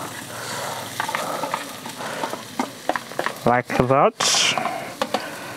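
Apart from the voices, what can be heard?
onions frying and being stirred in vegetable oil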